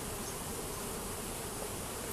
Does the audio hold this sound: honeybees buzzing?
yes